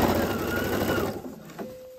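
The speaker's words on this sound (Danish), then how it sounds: "Og så syr vi nu igennem tre lag." A sewing machine stitching through three layers of fabric for a balloon sleeve, running steadily with a fast mechanical whir for about a second before slowing and stopping, close and alone.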